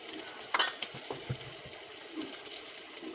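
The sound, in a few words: spices tempering in hot oil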